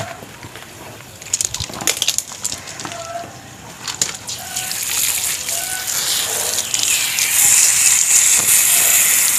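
Water splashes and pours steadily onto the soil of a potted aglaonema plant, building into a continuous gushing hiss after a few scattered clicks and knocks.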